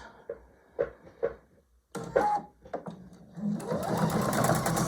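A sewing machine stitches a quilt block with a quarter-inch seam, starting with a few short separate bursts and then running steadily and close by for the last second or so.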